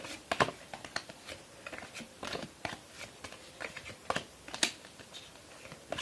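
Magic: The Gathering cards are shuffled by hand close up, making quiet, irregular soft slaps and papery flicks in short bursts, with no voices.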